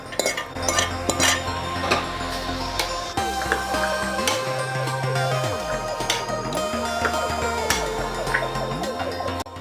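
Pre-boiled mutton goes into a pan and is stirred, giving clinks and scrapes of a metal spoon against the pan along with some soft squishing, close by and moderately loud, with no talking.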